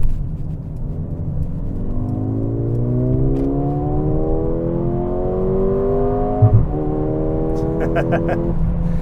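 A 2024 Mercedes-AMG GLA35 with a 2-liter turbocharged four-cylinder accelerates hard in Sport Plus mode, its engine note rising steadily through a gear change while passing another car, heard from inside the cabin.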